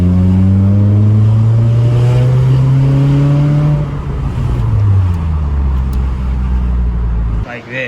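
A Scion tC with a newly fitted exhaust revs and pulls on throttle, its loud, close engine tone climbing steadily for several seconds before easing down, with someone talking over it.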